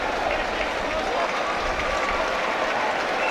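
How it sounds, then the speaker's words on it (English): Broad, continuous roar of a large stadium crowd at a rugby sevens semifinal, Argentina versus South Africa in Port Elizabeth, loud and steady with a commentator's voice faintly mixed in. "There's such a din in the stadium."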